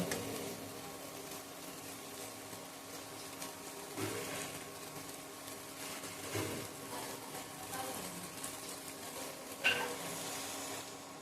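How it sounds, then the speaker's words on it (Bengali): Water added to a fried spice paste for khesari and chana dal dhoka curry sizzles softly in the pan, with occasional scraping stirs and light clinks of a spoon against metal. "আমি এবারে এর মধ্যে জল অ্যাড করে দেব।"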